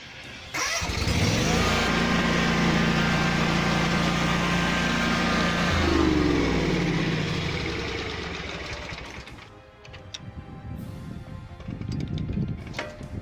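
Ferris FW25 walk-behind mower engine running at full throttle, a loud steady roar that holds for several seconds, then drops and rises unevenly near the end as the throttle shifts, close and heard alone.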